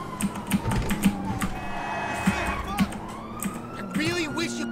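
Police car sirens in Grand Theft Auto V wail and rise in pitch under a steady rattle of keyboard typing. A siren sweep comes through clearly near the end.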